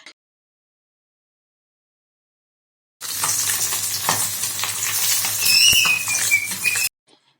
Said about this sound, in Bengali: আর সবার ফার্স্টে আমি আগে মিঠির জন্য এই মাছটাকে ভেজে নিলাম।